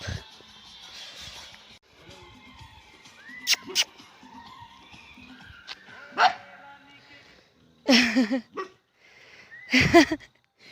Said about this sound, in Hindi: भौंकता भी है, पूंछ भी लाता है।